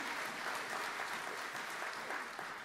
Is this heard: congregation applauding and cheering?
yes